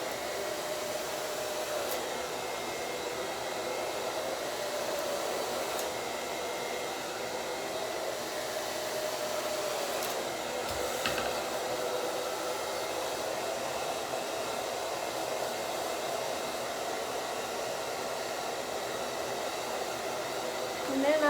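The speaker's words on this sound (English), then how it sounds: "And I kind of start to blow everything forward" A hair dryer blows steadily and close for the whole stretch, a constant broadband whoosh while short hair is dried forward and side to side, with no talking over it.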